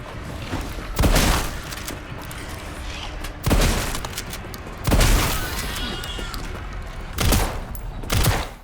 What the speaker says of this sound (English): even though well-placed shotgun blasts won't easily take them down